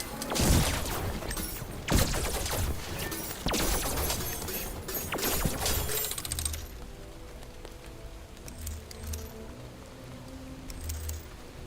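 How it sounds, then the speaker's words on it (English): Cannonballs burst in an area-damage attack in an action video game, a rapid cluster of loud crackling blasts for about six seconds, then quieter scattered pops and rumbles. "It fires a cannonball in a random direction that explodes in an area."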